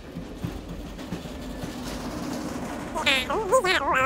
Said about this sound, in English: My favourite part of the train journey.